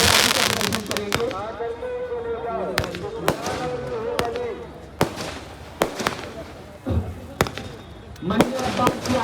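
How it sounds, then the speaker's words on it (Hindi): Fireworks burst in a display at the Dewa mela, sharp loud bangs cracking out at irregular intervals, some in quick pairs, while someone talks over a crowd between the blasts. "ये देखिए मंजर अब्बास जी की आतिशबाजी आकाश में"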